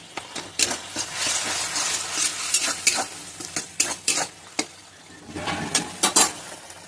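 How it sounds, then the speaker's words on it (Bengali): Spice paste with turmeric, salt and a little water sizzles in a pan while a spoon stirs and scrapes it in repeated close strokes, the soft frying hiss running under the spoon's scrapes and taps. "দেখুন এটা কষানো হয়ে গেছে।"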